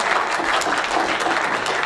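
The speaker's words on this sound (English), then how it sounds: "Round of applause." A crowd at a school assembly applauds in a steady, dense wash of clapping that stays at an even level throughout the short stretch.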